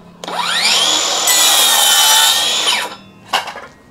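A Dongcheng DCMY165S circular saw whines up and cuts through wood in one steady, loud pass of about two and a half seconds, then spins down, followed by a brief second burst.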